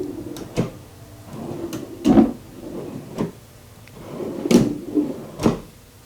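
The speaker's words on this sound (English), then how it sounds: "They're full extension drawer slides" Cabinet drawer on full extension slides, mounted set back inside a restored pre-1907 Hardinge cataract lathe cabinet, rolling open and shut several times with sliding rumbles and distinct thumps at each stop.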